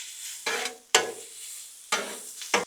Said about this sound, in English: Let's throw down some bacon. Right there in the center.